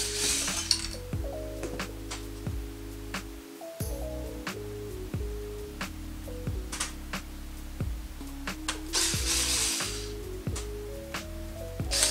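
A ratchet works a metal piece off a school bus dashboard, giving a run of close, sharp clicks and taps over a steady low hum.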